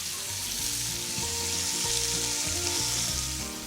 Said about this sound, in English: Add the steak and stir fry for 4 to 5 minutes until sealed and lightly browned